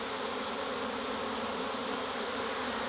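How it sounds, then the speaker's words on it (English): A swarm of wild bees on a ranch drones in a loud, dense, unbroken buzz, close and steady throughout. "the thing about bees that are swarming is they are about as docile as they'll ever be"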